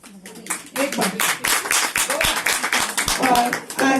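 A crowd claps loudly and steadily for a few seconds, with scattered voices and cheers mixed in.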